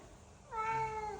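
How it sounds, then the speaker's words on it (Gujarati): A white cat gives a single clear, drawn-out meow at close range, rising out of quiet room tone and holding steady for most of a second before trailing off. "ધોળા કલરનો બિલાડો છે બહુ જબરજસ્ત"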